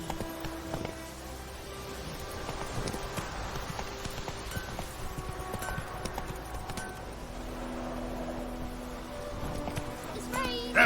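Roach, the horse in The Witcher 3, gallops in a steady, rapid clip-clop of hooves that stays close and even throughout, with a brief snort or whinny and a constant bed of ambient game sound underneath.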